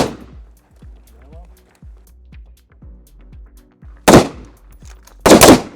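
Repeated sharp rifle gunshots at a shooting range at irregular intervals, several fainter shots spread out, then two loud nearby blasts, with a voice briefly heard among them.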